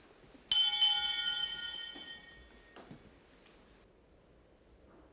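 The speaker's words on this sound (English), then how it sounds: "The kai-chinrei, or bedtime bell, is rung at 9 p.m." At Eiheiji temple, a single soft strike of the kai-chinrei bedtime bell rings out with a clear metallic tone that fades over about two seconds, followed by faint quiet tapping in a still hall.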